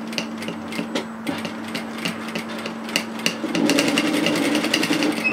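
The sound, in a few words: sewing machine edge stitching a placket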